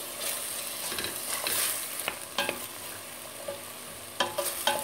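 A Tunisian tajine mixture cooking over low heat in a pan, gentle continuous sizzling with scattered stirring scrapes and clinks, close-up and moderately loud, no talking.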